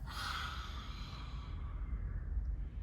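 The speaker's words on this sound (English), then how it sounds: "Inhale, exhale, lion's breath." A forceful breathy lion's breath exhale from a yoga exercise rushes out near the mic, fading over a couple of seconds into quiet room noise.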